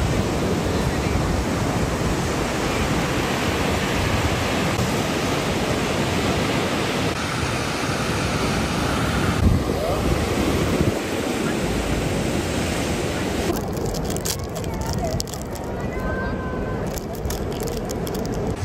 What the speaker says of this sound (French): Regardez-moi les vagues, là.